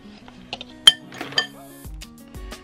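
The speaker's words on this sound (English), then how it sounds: "then we keep stirring it" A spoon clinks and scrapes against a bowl while banana cake batter is stirred, a few sharp irregular taps and rattles, close by, with no voices.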